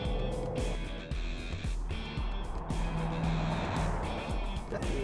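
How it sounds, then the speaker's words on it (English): A 2009 Dodge Challenger muscle car accelerating, its engine producing a steady, loud, continuous roar with rhythmic low pulses throughout, with no voices. "The acceleration of the car is pretty impressive."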